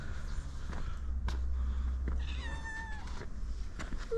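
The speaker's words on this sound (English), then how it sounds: "Meow." A cat meows a few times nearby at a wine factory in Kakheti, Georgia, short rising cries over a quiet background with faint footsteps.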